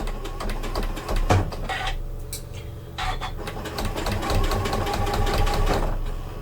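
A Janome sewing machine stitching quilt binding runs in a fast, steady mechanical chatter, pausing briefly midway before resuming at full speed.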